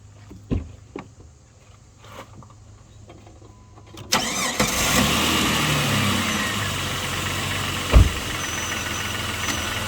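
A Jeep WJ with the 4.0 engine and a coil pack modification cranks briefly and fires up, then settles into a steady, loud idle after a few quiet clicks beforehand.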